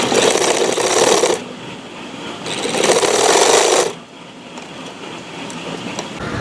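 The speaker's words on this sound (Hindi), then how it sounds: "तो यहाँ से लेके यहाँ तक इसे सिलाई लगा लेते हैं" A sewing machine stitches a sleeve in two loud, close bursts, each over a second long, separated by quieter pauses where the motor hums faintly.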